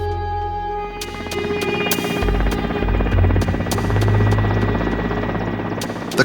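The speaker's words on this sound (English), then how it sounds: "pilots push their helicopters beyond their limits in high temperatures and humidity" An Mi-8 helicopter flies with a loud, continuous rotor throb and turbine whine, with sharp rhythmic blade slaps punctuating the steady roar and no voices.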